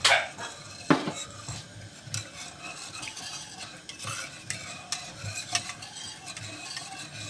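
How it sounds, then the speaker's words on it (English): A spoon stirs a lumpy pepper-seasoned sauce in a pot, scraping and clinking against the metal. A sharp clatter comes near the start, then irregular taps and knocks continue over a soft sizzle. "you just keep on stirring until you don't see as much lumps as you are"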